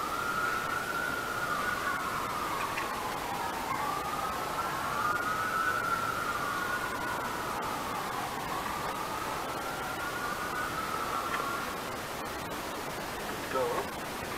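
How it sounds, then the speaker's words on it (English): A fire engine siren wails in slow rising and falling sweeps, sounding steadily and fairly loud over a constant broadband rush of background noise for most of the stretch. "It's probably the fire engine."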